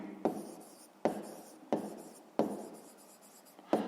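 Pen or pencil writing numbers on paper during a fifth-grade maths exercise, five scratchy strokes in a steady rhythm, close and fairly quiet, with no talking.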